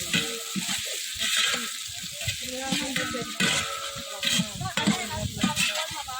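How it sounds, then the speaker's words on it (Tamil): Food sautéing in a pot over an outdoor village wood fire, a steady close sizzle broken by repeated scrapes and clanks of a stirring spoon, with people talking intermittently over it. "நன்றாக வதங்கி கொண்டிருக்கிறது"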